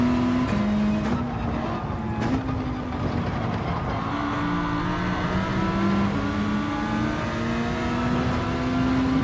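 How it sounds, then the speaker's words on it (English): A race car in Gran Turismo 7 at the Autopolis circuit, its engine droning loud and steady while the pitch steps up and drops through several gear changes, including downshifts, with no talk over it. "Why am I downshifting?"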